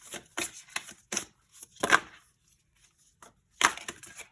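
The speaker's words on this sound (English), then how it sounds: "Okay, like I cannot get hold of this deck. Let's give it a good shuffle." A deck of cards being shuffled in a series of crisp riffling bursts, close and fairly loud, with brief pauses between them.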